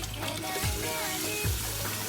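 Tap water runs steadily into a pot of washed rice, a continuous close pour with a couple of brief gurgling dips in the flow.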